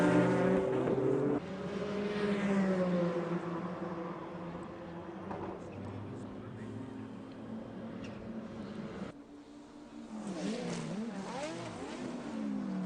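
Porsche race cars at the 1997 24 Hours of Le Mans, engines droning past with a rising then fading pitch, one car after another sweeping by at moderate distance.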